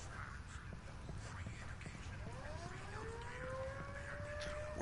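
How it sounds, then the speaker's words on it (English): An enemy base alarm siren wails in the Ghost Recon Wildlands video game, rising and sliding in pitch over background game noise and faint footsteps, moderately distant. "Where the fuck is that siren? I want to shut it down."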